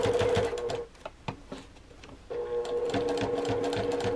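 A sewing machine stitching a zippy travel bag runs loud and close in a steady whir, stops briefly for a back stitch with a few soft clunks, then runs again.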